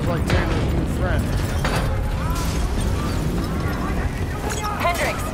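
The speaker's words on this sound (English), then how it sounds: "we have multiple explosions across the facility" Explosions across a facility in Call of Duty Black Ops III, low rolling booms and rumbling debris mixed with mechanical clatter and scattered pops, loud and sustained beneath voices speaking.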